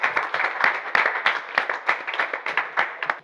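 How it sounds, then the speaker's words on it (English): An audience applauds at a school English club show, giving steady, dense hand clapping with irregular sharper claps throughout, fairly close and with no talk over it. "Clap hands again."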